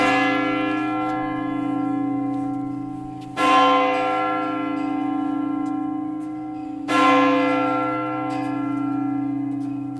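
Strasbourg cathedral's church bell strikes three o'clock, three loud resonant strokes spaced about three and a half seconds apart, each sustained hum swelling and slowly fading under the next.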